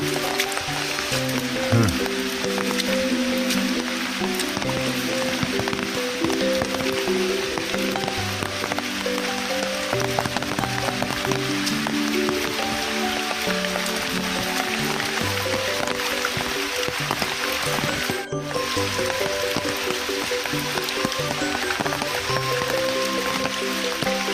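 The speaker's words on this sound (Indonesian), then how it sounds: "Hujannya sudah mulai reda" Rain easing off over a mountain village in West Java, a dense, steady hiss of falling water that continues without letup through the whole stretch.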